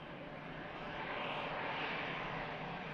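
Jet airliner departing Manchester Airport, a steady broadband engine roar that swells slightly midway and holds loud throughout, with no voices over it.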